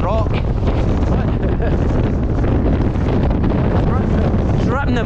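Strong gusting wind from Storm Babet on the mountain Meall Ghaordaidh, loud, roaring and continuous as it buffets the microphone, with a voice briefly audible beneath the blast.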